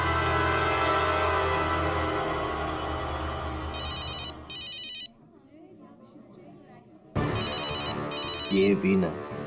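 A telephone rings loudly in a tense drama scene, with two bursts of ring tone, a pause, then more ringing that returns sharply over a low musical score. Only background sound can be heard, and nobody speaks.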